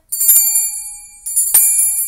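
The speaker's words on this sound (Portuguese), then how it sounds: "Olha o sininho aí." A bright, metallic notification bell sound effect rings out twice, each a crisp ding with a shimmering ring that fades out, loud and up close with no other sound.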